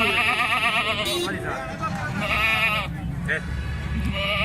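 A goat bleats repeatedly with wavering cries at a busy livestock market in Rajanpur, close and loud amid other animal calls, with people talking throughout.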